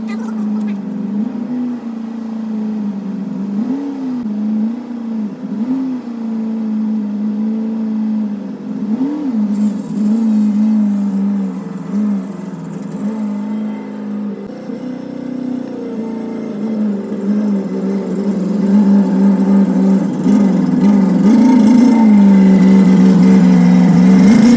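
Nissan 240SX engine warms up, idling with a steady low drone and a few gentle revs, then builds louder and rougher toward the end as the car drives off.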